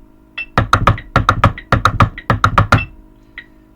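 A high school drumline drum pattern in sixteenth-note groupings, dense bursts of loud close hits in four clustered phrases, then a single faint tap at the end.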